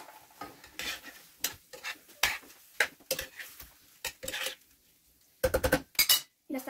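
Ingredients being stirred in a frying pan, with repeated scraping and clattering strokes of a utensil against the pan, irregular bursts separated by short pauses over a faint sizzle.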